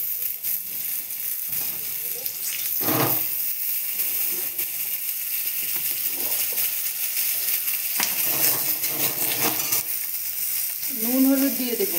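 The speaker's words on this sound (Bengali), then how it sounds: "আলুগুলো ভেজে নিব।" Potatoes frying in a pan give a continuous broad sizzle with occasional clinks and stirring scrapes throughout, fairly loud and close, with a faint voice briefly in the background.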